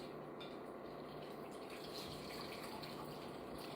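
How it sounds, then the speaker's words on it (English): Bottled Paloma cocktail liquid is strained and poured, a continuous splashing, gushing stream of liquid running steadily and fairly close for the whole stretch, with no talk. "So I am going to kind of strain this first"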